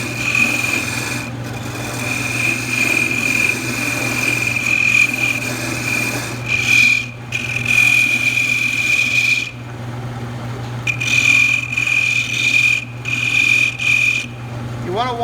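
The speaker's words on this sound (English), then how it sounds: "Now I'll use the skew to make everything the same diameter as the parting tool made it." A skew chisel shaves a small wooden knob spinning on a lathe, giving a steady close-up rasping hiss over the lathe's constant hum, broken by a couple of brief pauses as the tool lifts off the wood.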